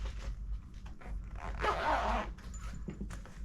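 A Record Pi record flattener heating bag, with its heating element and cord inside, is zipped closed in one close, rasping pull lasting about a second, amid quiet handling noises.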